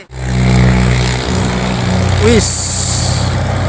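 A FAW JH6 truck hauling an excavator engine and steel labours up a steep climb, its engine droning loud and close, then a sharp hissing burst like an air brake release; a voice briefly calls out.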